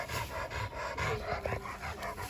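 An excited dog pants quickly and rhythmically while being fed, close and fairly loud, with faint snuffling between the breaths.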